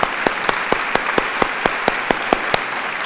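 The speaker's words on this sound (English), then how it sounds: "They deserve a round of applause." At an opening faculty and staff meeting, the audience gives a round of applause, close and continuous, with a steady, rhythmic pulse of clapping that carries evenly from start to finish.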